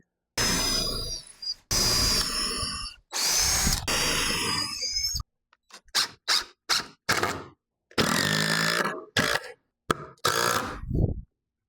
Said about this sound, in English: Now I'm going to pre-drill for my lag.